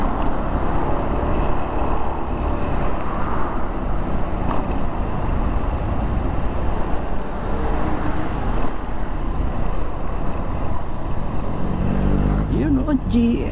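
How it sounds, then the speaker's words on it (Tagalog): Busy expressway traffic with many cars in the Philippines, a constant dense roar of passing vehicles mixed with heavy wind buffeting close to the microphone, steady throughout with a brief faint tone near the end. "Ayan o, expressway o, traffic na rin, dami sasakyan o."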